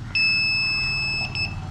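An IR remote hub beeping during pairing: one sustained high electronic tone lasting over a second, then two short beeps, close and clear over faint background noise.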